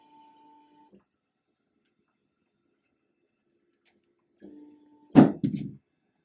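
An embroidery machine moves its frame around a design perimeter, giving a faint steady tone and whir, then near silence, another soft whir and two sharp mechanical clunks near the end.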